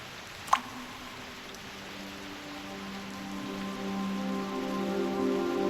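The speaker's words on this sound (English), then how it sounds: "Go ahead and touch the raindrops." Steady rainfall patters throughout a scene in the video game Reverse: 1999, with a brief sharp drip or splash near the start and a soft tonal hum underneath, gradually swelling slightly louder.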